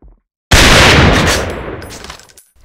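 Loud burst of automatic gunfire in the online shooter AVA, starting abruptly after a short silence and decaying into a ringing tail with a faint clink near the end.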